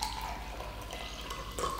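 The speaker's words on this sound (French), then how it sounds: "je vais d'abord renverser de l'eau du robinet" Tap water poured into a drinking glass, a steady close trickle and splash running the whole time, with a brighter splashing burst near the end.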